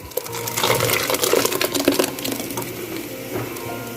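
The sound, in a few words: ground raw spinach paste added into fried masala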